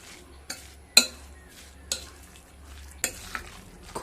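Leftover rice is mixed by hand with chopped tomato, green chilli and salt in a bowl, giving soft scattered scraping and stirring sounds with a few sharper clinks, fairly quiet and without talk.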